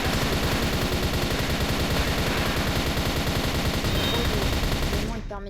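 Rapid sustained automatic gunfire from a newly bought weapon in a zombie survival video game, dense and loud for several seconds before cutting off abruptly.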